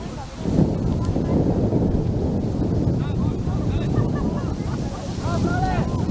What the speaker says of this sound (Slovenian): piha zelo močan veter